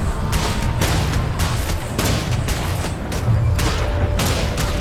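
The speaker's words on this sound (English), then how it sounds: "those centaurs are actually shooting themselves by firing at it" In Guild Wars 2, centaurs fire projectiles at a deflection wall in a PAX East presentation: dense, continuous booming and thudding volleys, loud and layered, with the crowd and game noise blending in.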